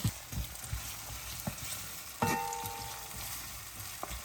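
Ackee and saltfish sizzling and simmering in a frying pan, a steady close crackle with scattered spoon scrapes and taps against the pan, one brief metallic ring midway.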